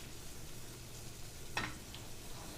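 Chopped garlic sizzles steadily in a hot pan, a soft continuous frying hiss heard close up, with one brief utensil tap partway through.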